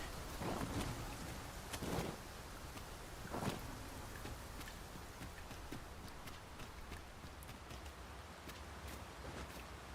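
Steady rainfall hisses throughout in a video game, Dragon's Dogma II, while low thunder rumbles roll in a few times near the start, with no voices.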